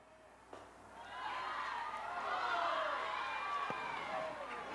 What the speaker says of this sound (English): You can hear the crowd not really happy with that call